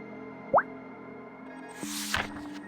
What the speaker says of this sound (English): Just then, his axe fell into the river.